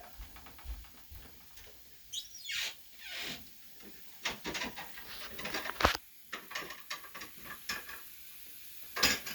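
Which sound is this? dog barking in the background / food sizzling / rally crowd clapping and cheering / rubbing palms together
food sizzling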